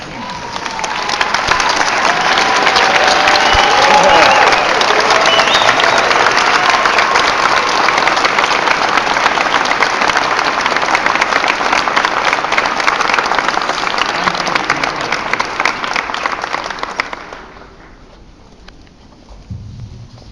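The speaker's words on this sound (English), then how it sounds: "I'm going to ask everybody to stand up and applaud today's graduates" A graduation ceremony audience rises and applauds the graduates with dense, loud, sustained clapping that holds steady for about seventeen seconds and then cuts off, leaving a quiet room.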